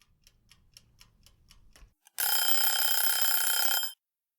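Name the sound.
kitchen timer buzzing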